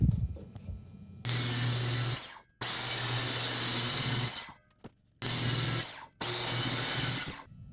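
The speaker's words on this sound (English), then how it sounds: "now that I'm cutting the cheaper plywood that won't be visible from the outside, I'll do it the right way and cut it from the back" A power saw cuts through cheap plywood from the back in three or four loud bursts of whining, with short pauses between passes and no talking.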